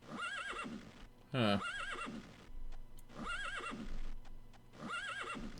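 A horse in the game Elder Scrolls II: Daggerfall whinnies in a repeating, choppy glitching loop, with hoof clip-clops under the looped calls and a brief loud burst early on. One short spoken word is heard.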